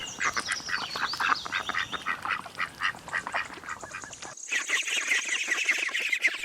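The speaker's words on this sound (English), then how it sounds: "Duckling." Ducklings and ducks call in rapid, repeated bursts of high, overlapping quacks and peeps, close and fairly loud, with a brief cut partway through before the calling resumes.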